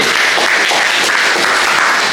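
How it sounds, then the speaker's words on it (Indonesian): A classroom of students claps for a presenting group, a brief burst of loud, dense applause from nearby. "Tepuk tangan untuk kelompok C."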